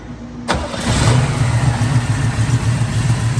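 A 1979 Pontiac Trans Am with a 400 engine, headers and dual exhaust fires up, then settles into a loud, steady, rumbling idle with a rough, throbbing exhaust note that carries on alone.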